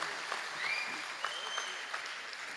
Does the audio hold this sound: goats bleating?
no